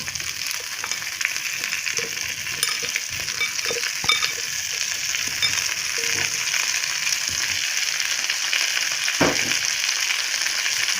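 Potato pieces frying in a pan for a soybean curry, a steady bright sizzle with occasional scraping and stirring clicks, close and continuous with no talk.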